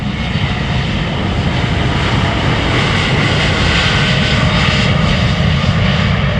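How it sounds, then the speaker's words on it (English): KLM airliner departing Amsterdam Schiphol Airport, a loud, steady broadband engine roar that holds close and constant throughout with no talk over it. "This is KLM flight 879 to Bangalore."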